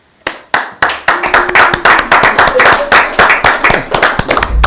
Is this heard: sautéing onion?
no